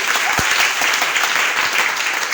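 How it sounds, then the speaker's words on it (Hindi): An audience at an RCM business meeting breaks into loud, dense applause, many hands clapping steadily and continuously throughout, close and full. "एक बार जोरदार ताली अपने लिए सब बजाइए।"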